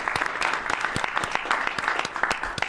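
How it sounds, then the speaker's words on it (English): Scattered, fairly sparse clapping from a small group at a presidential press event, individual claps distinct and moderately near over a faint background murmur. "Please clap."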